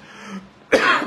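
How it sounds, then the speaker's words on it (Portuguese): A person coughs and clears their throat: a softer rasp first, then a loud, close burst of harsh coughing with no speech around it. "Assim que eu parar de tossir, né?"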